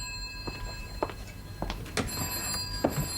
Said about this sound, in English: will you answer the phone